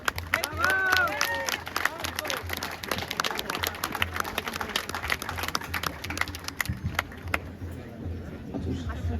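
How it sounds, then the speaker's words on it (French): Audience applause at a baptism ceremony, a dense patter of many hands clapping with crowd murmur and a voice over it at the start, sustained and moderately loud throughout. "Je vous demande de l'applaudir bien fort à Marcel Delcroix"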